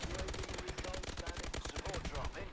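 Call of Duty Advanced Warfare gunfire: a rapid, continuous automatic burst with rhythmic loud shots over dense game noise throughout.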